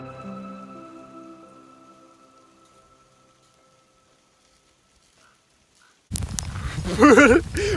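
Hail or snow pellets patter suddenly and densely on Mount Saint Helens, bursting in near the end after a long, almost silent stretch, with a voice briefly audible over the icy hiss.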